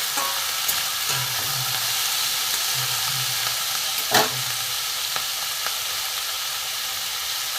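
Green chillies fry in a pan with a steady, bright sizzle and hiss, accompanied by occasional stirring scrapes and one sharper clack, close and moderately loud.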